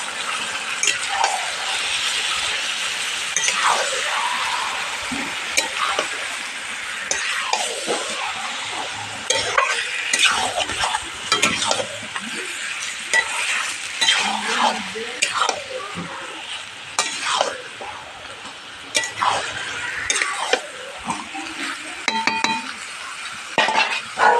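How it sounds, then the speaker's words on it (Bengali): Marinated mutton stirred and fried in a pan for curry, with continuous sizzling and frequent clinks and scrapes of a metal spoon against the vessel. A voice occasionally speaks over it. "এর মধ্যে দিয়ে দেবো আমি ম্যারিনেট করা মাংসটা মাংসটা দিয়ে দেবো ভালোভাবে নাড়াচাড়া দিয়ে এটাকে কষাতে হবে"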